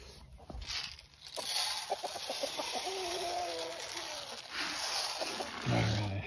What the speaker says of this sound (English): Rooster's already showing his hens where there's some feed.